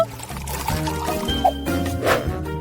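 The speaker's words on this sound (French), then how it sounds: "Versons le lait dans le pot." Milk pours into a nearly empty Nutella jar in a short, close stream with a light liquid trickle, set against a faint musical background.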